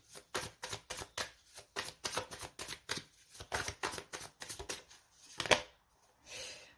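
Tarot cards shuffled in a quick, regular rhythm of close papery riffles and flicks, then a brief pause and the soft slide of a card being drawn and laid down.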